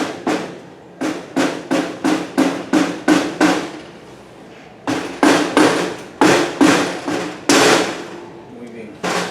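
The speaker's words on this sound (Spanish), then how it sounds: "nos ayudamos con martillo de goma. Aquí encontramos un borde del mismo motor. Se ha hecho para dar algunos golpes de esta forma" A rubber mallet strikes an engine's clutch cover in quick bursts of sharp, close knocks, about a dozen blows, a short pause, then another run of hits.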